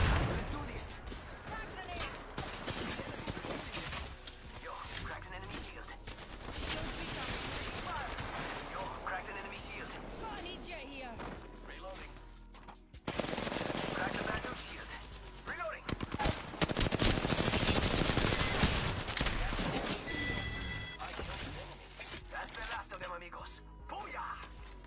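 Gunfire in the Apex Legends game, bursts of rapid automatic shots and loud impacts coming in waves over game ambience, with someone talking over the action.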